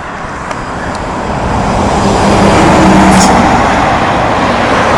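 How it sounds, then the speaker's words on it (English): Road traffic on a breezy day near Woodhenge, a continuous loud roar of passing cars and heavier vehicles that swells gradually, with wind rumbling throughout and no talk. "the noise of the traffic"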